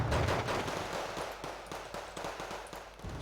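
Gunfire salvos from the wartime strategy game Wargame Red Dragon crackle in a rapid, irregular series of sharp bursts, fairly loud at first and continuing steadily through the clip.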